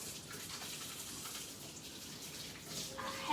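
Tap water runs steadily and softly while a knife and hands are rinsed after cutting jalapeños, a faint continuous splashing stream with no talk.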